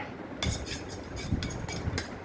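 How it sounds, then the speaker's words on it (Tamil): Faint stirring of urad dal sautéing in oil in a pan, a few soft metallic scrapes and clinks of a spoon against the pan over a quiet background hiss. "முதல்ல ஆயில் ஊற்றிக்கலாம். அப்புறம் உளுந்து போட்டுக்கலாம். நல்லா வணக்கி விட்டுக்கலாம்."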